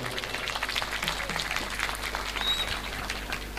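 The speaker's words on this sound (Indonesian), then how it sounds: "tepuk tangan untuk Syuban Lovers Pasuruan." Steady applause from a crowd at an Islamic religious gathering fills the space, a dense even patter of clapping that holds at the same level throughout.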